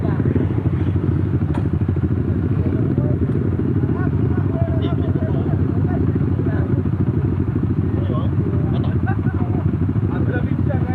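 A Yamaha RS150R motorcycle with an open Espada 32mm exhaust rumbles loudly and steadily at close range throughout, with voices faintly audible over the constant drone.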